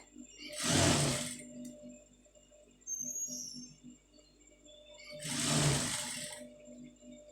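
A sewing machine stitches piping onto a sleeve in two short, steady runs of rapid whirring separated by a few seconds of quiet.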